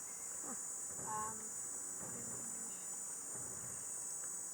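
A loud, steady high-pitched cicada drone runs throughout, with a few faint birdlike chirps and sounds beneath it.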